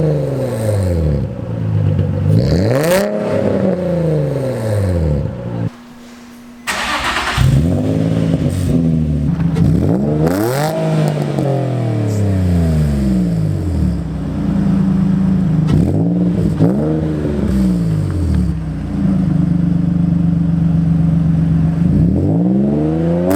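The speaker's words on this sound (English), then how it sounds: "I do like the sound of the Torx exhaust." A Nissan 350Z with a Torx exhaust revs repeatedly, rising and falling in loud, deep sweeps at close range with one short break, and no talking.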